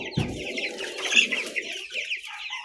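Young chicks peep and cheep in a busy, high-pitched chorus, close and fairly loud, with a few lower clucks mixed in near the start.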